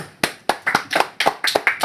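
Students in a Korean middle school maths class break into applause together, a quick burst of clapping with sharp, irregular hand claps close by and fairly loud over about two seconds.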